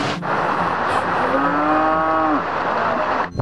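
A cow lets out one long, loud, drawn-out moo close by, with a few smaller lowing sounds in the background and no talking.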